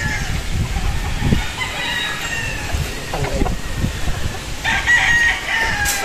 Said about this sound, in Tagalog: So ito naman yung broad stag na Jugod Gray.